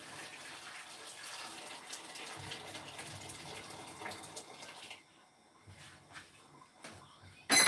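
Running tap water gushes into a cooking pot for a goat and chicken stew, a steady splashing stream that stops partway through, leaving quieter clatter before a sharp bump at the end.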